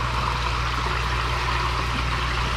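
Steady rushing and trickling of water flowing through a koi pond's barrel filter system, a constant close wash with no talk.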